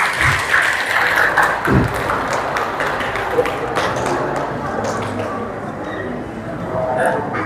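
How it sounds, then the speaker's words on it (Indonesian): Parents and teachers applaud a student at a school report-card handout, with scattered sharp claps in a room and a continuous murmur of voices talking underneath. "berikan tepuk tangan untuk Ayuni."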